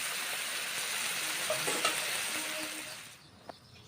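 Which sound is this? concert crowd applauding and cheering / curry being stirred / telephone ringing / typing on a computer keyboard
curry being stirred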